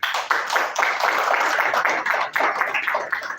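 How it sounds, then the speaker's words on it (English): An audience at a live event honoring a World War veteran in Western Kenya applauds, a dense, steady wash of many hands clapping that continues without a break throughout. "everyone else, round of applause for the helpers"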